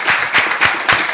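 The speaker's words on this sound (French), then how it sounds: "On l'applaudit très fort." Audience at a university debate competition applauding loudly, a close, dense burst of clapping that swells in a few pulses over about a second.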